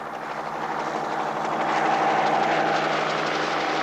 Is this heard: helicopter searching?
yes